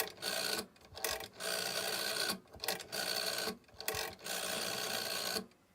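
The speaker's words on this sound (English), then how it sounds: "So the dial's a bit scratchy, as you can hear." The rotary dial of a black GPO 746F telephone turns and spins back with a scratchy, rasping whir. It sounds close and clear, in several short runs divided by brief breaks.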